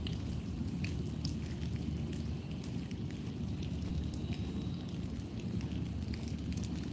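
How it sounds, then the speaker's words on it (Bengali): Steady rain falls throughout a full day of heavy downpour, a continuous dense hiss with scattered drop patter, moderately loud and unbroken, with no one speaking. "সকাল থেকে সারাদিন খালি বৃষ্টি পড়ে আর পড়ে"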